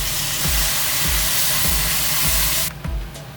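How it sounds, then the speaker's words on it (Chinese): Sauce is poured into chow mein noodles frying in a hot pan, setting off a loud, continuous sizzling hiss that suddenly drops away near the end. "把汁儿倒进去"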